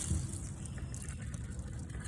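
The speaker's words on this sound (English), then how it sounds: "Now I just pour it over the strainer" Water carrying the last bits of fruit pulp poured through a strainer, a steady soft wash and trickle close by with no voices.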